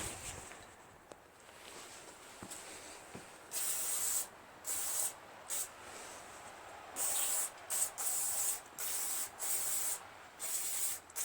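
Carburetor cleaner sprayed in repeated bursts onto the opposed-twin Briggs engine of a Craftsman LT1000 lawn tractor, close hissing blasts of about a second each with short pauses between.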